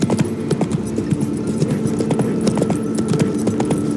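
Roach, Geralt's horse in The Witcher 3, gallops in a steady, loud drumming of hoofbeats, rapid and rhythmic, over a constant low hum throughout, with no one talking.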